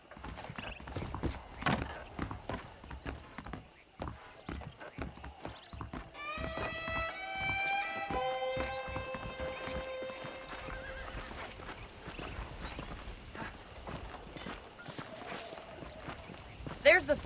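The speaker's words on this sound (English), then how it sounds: "The horses are saddled up over here." Saddled horses in the Red Dead Redemption video game clip-clop over ground and one lets out a clear whinny, with footsteps and a character talking over the hoofbeats.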